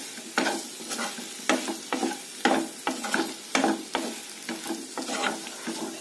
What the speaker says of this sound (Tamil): இப்போ இந்த மசாலா உருளைக்கிழங்கு கூட சேர்ற மாதிரி ஒரு 10 நிமிஷத்துக்கு நல்லா கலந்து விட்டுட்டே இருங்க